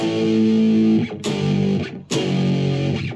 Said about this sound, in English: You just play power chords